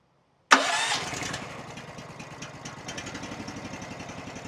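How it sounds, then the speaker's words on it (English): Honda GX390 engine on a new sawmill firing up after silence, a sharp catch followed by the engine settling into a close, even, pulsing idle. "fire this Honda GX390 up for the first time"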